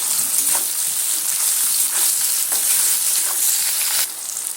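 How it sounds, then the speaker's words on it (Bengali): Tomatoes sizzle steadily in a hot pan, a bright crackling hiss with a few soft stirring scrapes, close and loud. "একদম টমেটোগুলো ভেজে নেব"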